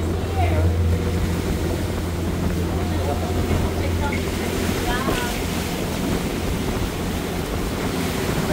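A boat cruises across choppy water on Sarangani Bay, with a continuous loud roar of wind, engine and slapping waves and a low steady hum beneath.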